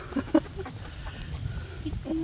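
A rooster gives a few short, soft clucks among farmyard poultry, faint and brief against quiet background noise.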